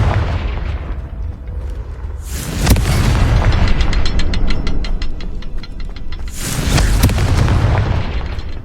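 Two heavy booms from the Confringo fire spell in Hogwarts Legacy, a few seconds apart. Each blast is loud and close, with a rumbling tail that fades slowly over the game's background sound.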